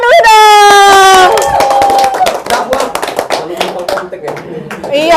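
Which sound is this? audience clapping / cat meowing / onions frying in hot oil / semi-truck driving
audience clapping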